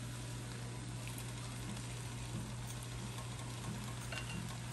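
Kikkoman soy sauce hits hot ham fried rice in a pan, giving a steady, even sizzle with a constant hum underneath, moderately quiet and unbroken.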